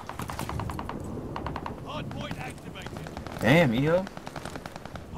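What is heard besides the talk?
gunfire in a video game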